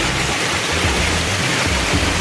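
Mankadadin waterfall at a picnic spot, a loud, dense, unbroken roar of falling water heard close up.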